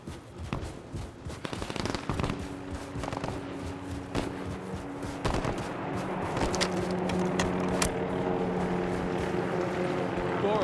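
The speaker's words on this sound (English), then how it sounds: "Taking enemy fire." Rapid gunfire crackles through a frozen-tundra combat mission in Call of Duty: Modern Warfare 3, sharp bursts of shots over a steady droning engine hum, with some radio chatter.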